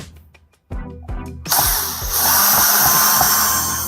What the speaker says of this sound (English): I've got my drill out here to make this part easy.